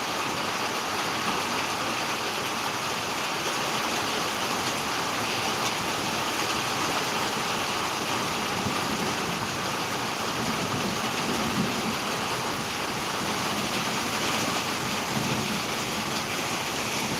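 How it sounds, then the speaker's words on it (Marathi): Rain beginning to fall in Akluj, a dense, even hiss of drops on surfaces holding steady throughout at moderate loudness, with no voices. "आज पावसाला इथं सुरुवात झालेली आहे"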